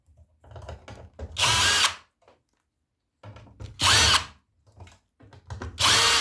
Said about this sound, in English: Remove all the screws.